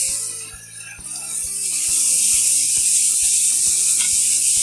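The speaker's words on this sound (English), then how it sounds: "We're going to go ahead and flip these steaks. Nice sear on them." Steaks searing in a hot pan just after being flipped, a steady loud sizzle with a bright hiss that swells and holds, while music plays underneath.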